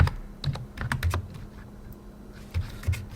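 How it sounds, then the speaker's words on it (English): Someone types a password on a computer keyboard in a short burst of distinct, close keystrokes, with a brief pause and then a few more taps, and no talking. "I'll put in our password."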